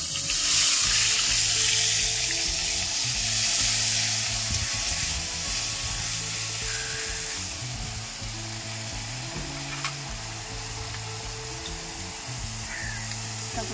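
Black cumin and onion paste frying in hot oil for a Bengali koi fish curry, a steady close sizzle running throughout under a Bengali-speaking voice.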